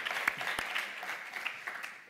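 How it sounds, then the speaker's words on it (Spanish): Studio audience at a live comedy talk show clapping, a dense, fairly soft ripple of applause with a couple of sharp individual claps near the start, fading slightly toward the end. "Sí, podéis aplaudir."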